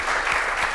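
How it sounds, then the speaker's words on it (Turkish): A studio audience on a Turkish folk-music television show bursts into a brief, dense wash of applause, loud and steady throughout. "Burada bir alkış istiyorum."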